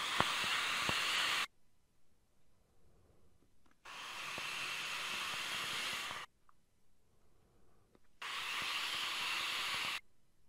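A Wismec Guillotine V2 RDA dripper at 0.19 ohms is vaped at 60 watts in direct lung hits. Three long, steady hissing draws of about two seconds each are separated by quiet pauses, close and loud.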